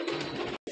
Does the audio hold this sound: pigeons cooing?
yes